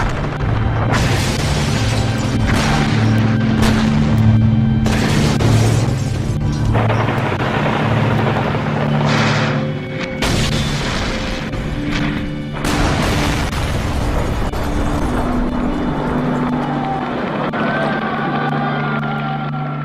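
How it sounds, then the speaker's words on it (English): Archival footage of the shelling of the Russian parliament carries heavy booming blasts and crashes over a continuous rumbling bed, with layered tones and several sharp, loud impacts spread across the stretch. "After a coup and counter-coup, Boris Yeltsin bombed his own parliament."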